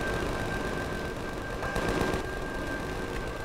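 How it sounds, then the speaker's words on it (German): Sustained gunfire from an enemy in the sci-fi survival game Empyrion: Galactic Survival, a dense, steady rattle of rapid shots running throughout with a constant electronic tone beneath. "Ey, der hat auf mich geschossen."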